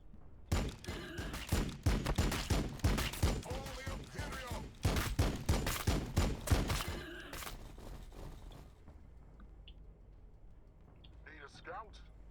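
Rapid volleys of weapons fire from units shooting in the strategy game Warhammer 40k Battlesector, a dense string of loud bursts and thumps over several seconds that then fades to quieter ambience, with a voice speaking.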